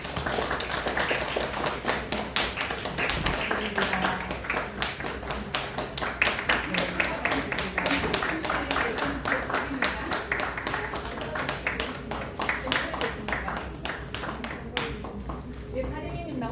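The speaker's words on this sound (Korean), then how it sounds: "축하의 박수 부탁드립니다" A year-end gathering of an essay magazine claps for its new award winners, the sharp hand claps turning brisk and rhythmic. Voices murmur faintly underneath throughout.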